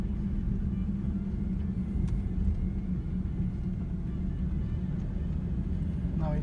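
A car drives on a road during a driving test in Japan, a steady low engine and tyre rumble heard from inside the cabin, constant throughout.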